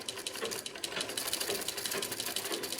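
A manual home sewing machine running while winding thread onto the bobbin makes a fast, even mechanical whirring and clicking, close and steady, with no talk.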